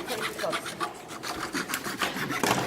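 A hand saw cuts through a piece of wood for a picture frame, with rapid back-and-forth rasping strokes up close and voices talking quietly beneath.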